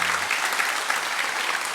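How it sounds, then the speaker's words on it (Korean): A church congregation at a Sunday worship service claps in welcome; brisk, dense applause, close and steady for the whole short stretch. "우리 박수로 우리 한번 환영하도록 하겠습니다."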